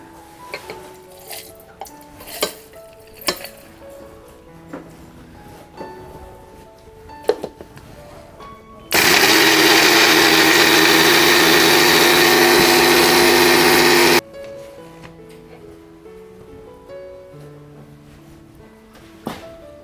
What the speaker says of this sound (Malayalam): മുട്ടത്തോടൊന്ന് നമുക്ക് മിക്സിയിലൊന്ന് അടിച്ചെടുക്കാവേ